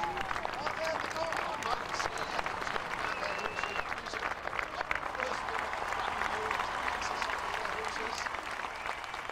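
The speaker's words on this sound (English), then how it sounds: "the splendid sight with the sun glinting off the helmet deserves a round of applause" An outdoor crowd at a Battle Abbey reenactment applauds Duke William riding in, his helmet glinting in the sun. Steady, moderately distant clapping continues while a commentator talks over it.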